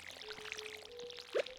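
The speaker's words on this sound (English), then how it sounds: "now of course we are watering them because" Watering freshly planted seeds with a watering can in the farming video game Stardew Valley: a soft pouring splash under game music, swelling briefly near the end.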